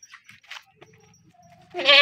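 Goats bleat loudly and close at a livestock market selling dairy goats, a strong harmonic cry rising at the end after softer scattered animal sounds.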